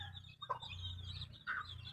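A chicken clucks a few soft, scattered times over a low background rumble, fairly quiet and at some distance.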